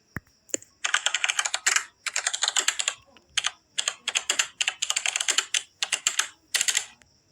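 Bursts of rapid, crisp key clicks from a computer keyboard typing sound effect, grouped in runs separated by short pauses, close and clear.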